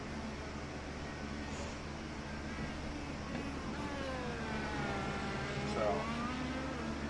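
Race cars roar past at the Grand Prix of Long Beach in a racing game. Rising and falling engine whines sweep by over a steady low rumble, building in intensity toward the end.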